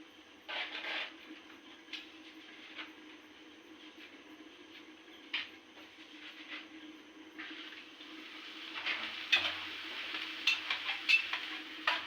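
Papad frying in hot oil in a pan gives a soft, steady sizzle with scattered crackles and light stirring scrapes, growing busier toward the end; no one talks.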